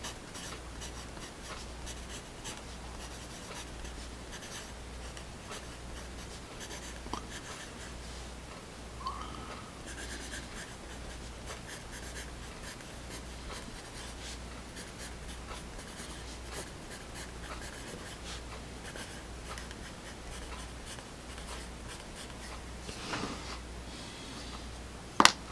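Pen and Gear metallic pencils with their factory points scratch steadily across paper, a continuous close, quiet scribbling texture with a few faint ticks and a sharp tap at the very end.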